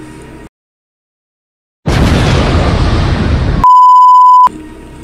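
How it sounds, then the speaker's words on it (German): A loud, sustained explosive roar in the video game The Last Treat bursts in after silence, then cuts to a steady electronic beep tone. "Es ist alles explodiert."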